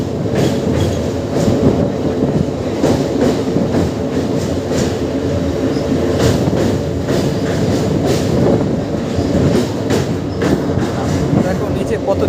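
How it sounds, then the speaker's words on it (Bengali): Train crossing a river bridge near Kolaghat while another train passes alongside, a continuous loud rumble with rhythmic clattering of wheels and rail joints throughout. "আর ব্রিজে আমাদের ট্রেনের সাথে আরেকটা ট্রেনের জিং হচ্ছে।"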